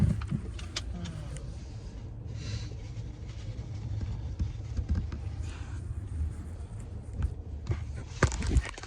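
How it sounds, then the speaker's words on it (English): Steady low rumble of a regular car's cabin while riding, with road noise, occasional small rattles and clicks, and faint voices in the background. "So we got back in our regular car"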